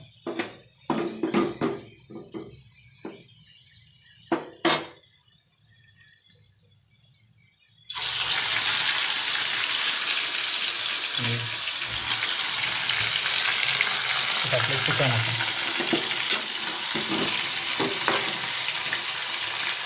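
Chicken sukka frying in a pan: after a few clinks and a short spoken phrase, a loud, continuous sizzle begins and holds steady, broken by occasional scraping stirs.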